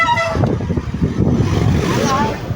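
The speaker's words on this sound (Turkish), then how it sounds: "Kornası da mükemmel." A short, bright electronic horn beep from a 2024 Volta VSM electric scooter sounds at the start, followed by someone talking nearby over faint road noise.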